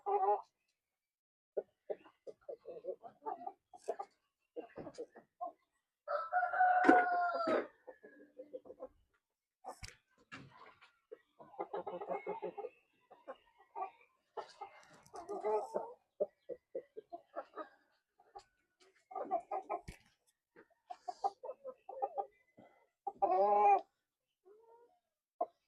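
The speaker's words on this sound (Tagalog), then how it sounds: "Napaka-healthy ng ating breeder ng Rhode Island Red Mahogany." Rhode Island Red Mahogany heritage chickens at a backyard farm cluck and murmur in short, scattered bursts, close by and moderately faint, with a person talking at times among them.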